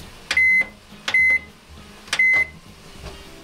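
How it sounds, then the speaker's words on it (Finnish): Microwave oven beeping three times, each a sharp electronic tone held for a moment, evenly spaced and clear over a quiet kitchen background. "Tässä on mummon uusi mikro."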